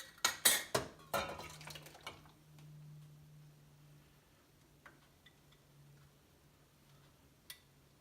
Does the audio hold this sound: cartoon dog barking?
no